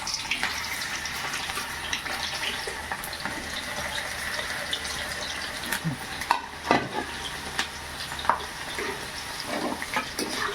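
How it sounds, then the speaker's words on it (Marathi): Okra (bhendi) frying in hot oil for a masala bhendi dish, a steady close sizzle with scattered pops and stirring clicks throughout, no voice over it. "आता आपण ही भेंडी तळून घेऊ"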